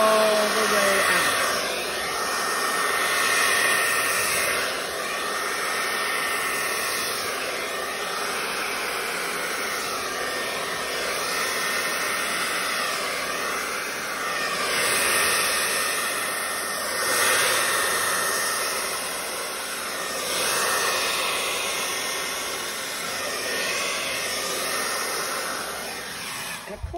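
Air blown steadily across wet acrylic paint for a Dutch pour, a close, loud whooshing hiss like a hair dryer that swells and eases in slow waves for the whole stretch.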